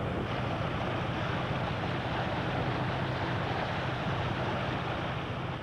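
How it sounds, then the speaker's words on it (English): Low, steady rumble of the steamboat Burma Queen's engine aboard the Hafenpolizei V in Hamburg, a continuous broadband drone mixed with wind and water noise, with no talk. "There's definitely the engine heard."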